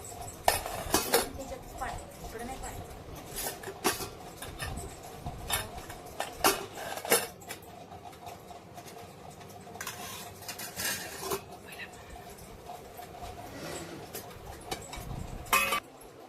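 Dishes and cutlery clink and scrape in scattered sharp bursts, spoons tapping against plates close by, with faint birdsong in the background.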